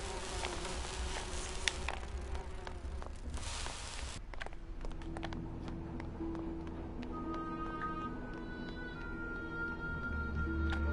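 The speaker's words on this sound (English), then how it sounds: "These bees don't seem too busy." Bees buzz steadily in a scene from the Grim Fandango video game, a close, continuous insect drone with a few sharp ticks and clicks, and a held synthetic tone joins in partway through; nobody speaks.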